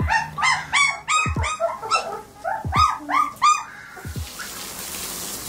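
Newborn puppies cry in a rapid run of high, squeaky whimpers and yelps, close and fairly loud, for about four seconds before fading into quiet background noise.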